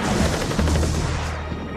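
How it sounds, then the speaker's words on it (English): Dense gunfire from incoming bullets during a tank attack on the outer perimeter of a special forces camp, loud, continuous overlapping bursts and cracks with no pauses throughout. "Bullets are coming in, but there's no enemy soldiers."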